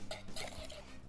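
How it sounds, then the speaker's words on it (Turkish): Whipped cream stirred one last time in a bowl for a Napoleon cake, with a short run of soft scraping and light clinks of a utensil against the dish, close and alone. "Güzelce bir son kez karıştırıyorum."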